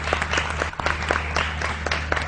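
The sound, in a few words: studio audience applause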